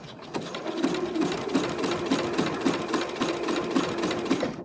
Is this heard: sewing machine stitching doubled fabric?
yes